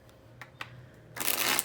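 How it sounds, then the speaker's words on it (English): Tarot cards are shuffled, a few soft taps and flicks giving way to a dense riffling burst near the end, close and alone. "All right, one more shuffle."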